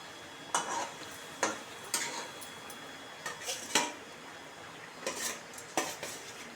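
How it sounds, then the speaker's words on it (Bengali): Pieces of fesa fish dropped one at a time into bubbling mustard-paste gravy in a pan, giving several separate clinks and splashes over a faint simmer, with no talking. "এবার দেখো মাছগুলো দিয়ে দিচ্ছি একটা একটা করে"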